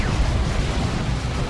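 A tank fires a plasma cannon shot in a Dawn of War 2 battle, a loud sustained roaring blast with heavy low rumble that fills the whole moment without letting up.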